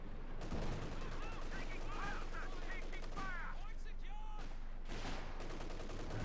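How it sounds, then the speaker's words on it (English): Infantry rifle and machine-gun fire crackle in rapid bursts during a Company of Heroes 2 battle, mixed with distant explosions and game voice lines. The battle noise stays dense throughout. "Section's firing rather pointlessly at the Panther, just wasting bullets on it."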